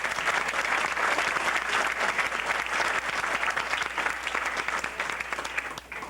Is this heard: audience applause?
yes